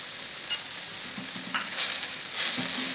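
Amaranth leaves and potato fry in a pan as chilli powder and turmeric get stirred in, a soft steady sizzle broken by scraping spoon strokes and a few light clinks.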